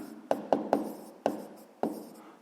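A pen taps and scratches on paper while writing out a sixth-grade math exercise, five sharp strokes in an irregular rhythm, each fading quickly, heard close and quiet.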